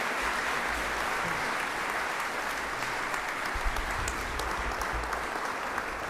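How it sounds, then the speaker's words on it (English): An audience at the 2023 Victoria Australian of the Year Awards claps continuously, a dense, even wash of applause filling the hall with no break, and a faint voice or two underneath. "keep that applause going"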